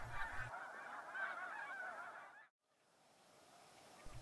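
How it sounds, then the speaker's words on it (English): Snow geese on a refuge lake keep up a dense, continuous honking chatter from a large flock at a distance. The chatter cuts off abruptly partway through, leaving quiet background. "The snow geese stir well before dawn and begin their chatter."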